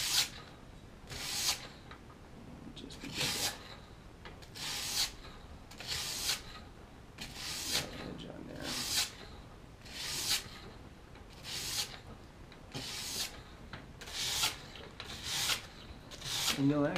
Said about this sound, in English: And this sandpaper just does an excellent job.